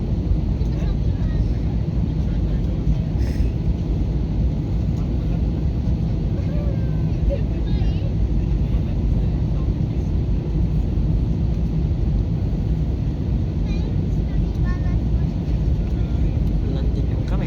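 Loud, steady broadband roar inside a Cebu Pacific A320 airliner landing at Cebu airport, a constant engine and airflow rumble with no breaks, close and filling the cabin; faint voices may sit beneath it.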